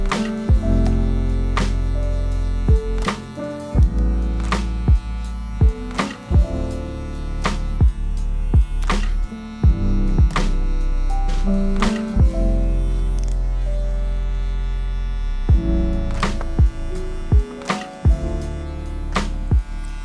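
Electric hair clipper buzzing steadily through a taper haircut, its edge working along the hairline, a continuous close hum broken by short clicks and pauses as it is lifted and repositioned.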